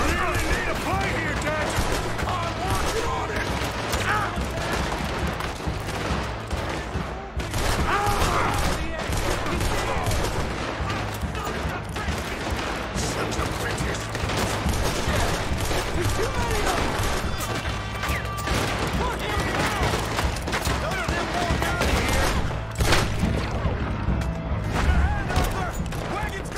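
Sustained gunfire from a shootout in Red Dead Redemption 2 during the Saint Denis bank robbery, with dense rapid shots, crashes and impacts rattling nonstop for the whole stretch while voices shout over the din.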